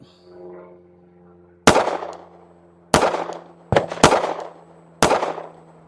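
A S&W Bodyguard 2.0 .380 ACP pistol fires Federal Punch 85-grain rounds in five sharp, loud shots with uneven spacing. The last shots come close together, and each crack is followed by a short ringing decay.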